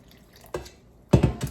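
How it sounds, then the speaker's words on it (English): Water being stirred into flour for Jamaican saltfish fritter batter, heard as two short bursts of wet mixing and sloshing in a bowl, close and fairly quiet, with no talking. "I'm stirring the water in to the flour"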